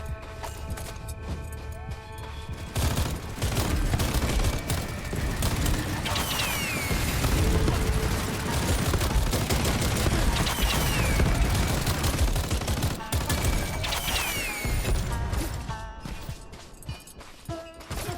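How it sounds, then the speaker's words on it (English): Rapid gunfire from the Far Far West video game keeps up a dense, nonstop clatter of shots for most of the stretch. Metallic pings and other game effects are mixed in, and the shooting thins out near the end. "I'm shooting a shit ton of bullets"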